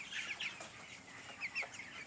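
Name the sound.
chickens clucking on a raised poultry platform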